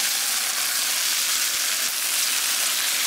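Vegetables and other ingredients for Japanese Navy curry sizzling in a little hot oil in a pan, a steady loud crackling hiss that continues evenly throughout with no pause.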